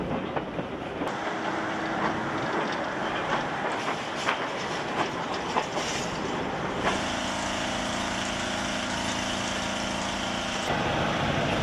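A train on the Andes railway from Lima to Huancayo in Peru, high in the mountains near Galera station, rumbles steadily with clattering wheel knocks and metallic creaks, later joined by a sustained low droning hum.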